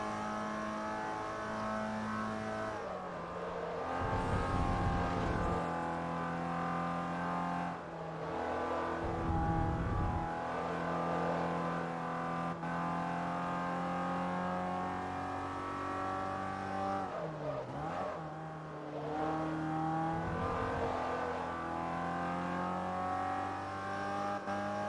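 Race car engines in Forza Motorsport 3, MX-5 Miata trophy racing, rev and drone steadily with shifting harmonic pitch, punctuated by several louder bursts and passing roars across the stretch, no talk over it.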